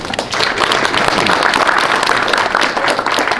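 A dense burst of audience applause at a car-racing track gathering, loud and even clapping from a large crowd sustained without a break.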